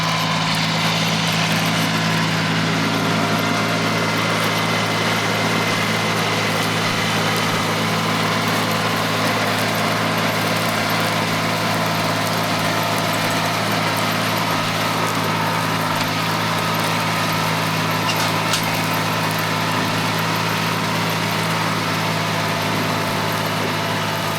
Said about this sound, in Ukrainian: Трактор на ходу технічно справний.